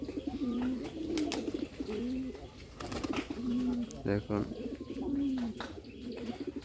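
Bombay pigeons coo repeatedly in soft, rolling phrases close by, with a brief spoken word and light background rustle around them.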